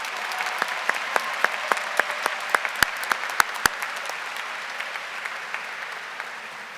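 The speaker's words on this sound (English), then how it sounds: "Let's give the Monacan singers one more round of applause." A round of applause for the singers at a high school commencement ceremony, with a broad crowd wash and a few louder individual claps standing out nearby, tapering off toward the end.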